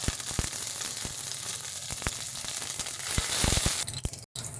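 Dried chillies, curry leaves and mustard seeds hit hot oil and sizzle steadily, with crackling pops and spits scattered over a dense frying hiss, close and fairly loud.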